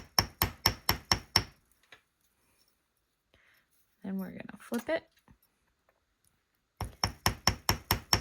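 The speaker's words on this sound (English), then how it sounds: "this side is laying flat against my bench block, so we're just going to hammer that slightly" Hammer blows on soft copper wire resting on a metal bench block ring out as a rapid run of sharp, bright strikes, then a pause while a person talks briefly, then another quick series of taps.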